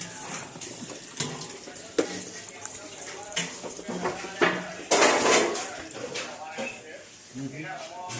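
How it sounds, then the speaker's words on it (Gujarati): Household utensils clink and clatter as they are carried and set down during house cleaning. The bumps and metallic knocks come at uneven moments under steady talking. "તો હું વાસણ લઈ જઈને મૂકું છું."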